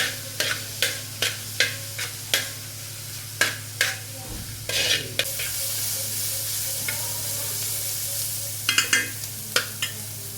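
Two large chopped onions sauté for biryani in a pan, with a steady oily sizzle under a run of sharp spoon taps and scrapes against the metal, some spaced, some clustered.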